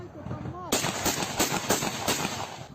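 A sharp, heavy tank cannon blast erupts partway through, followed by rapid, rumbling bursts of gunfire close by in combat near Soledar, Ukraine, with a voice faintly audible beforehand.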